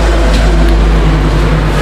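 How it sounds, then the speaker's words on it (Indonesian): Heavy car traffic along a busy main road, loud and continuous, with a deep steady rumble and no distinct passes or voices. "di sini pinggir jalan besar, jadi suara-suara mobil itu sangat keras sekali"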